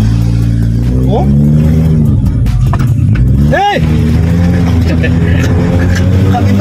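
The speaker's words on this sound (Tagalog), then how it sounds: "Dinig niyo yung tunog ng kotse" A car engine, recently repaired of a misfire, idles and revs steadily under the pedal, with a brief rising rev midway, while several people talk loudly over it throughout.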